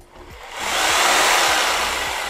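A Ryobi 100V electric leaf blower starts up, its airy whoosh rising quickly over half a second into a loud, steady rushing roar that holds, close to the listener, with no talking.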